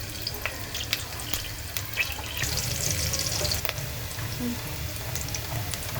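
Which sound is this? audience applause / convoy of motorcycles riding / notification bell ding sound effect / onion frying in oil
onion frying in oil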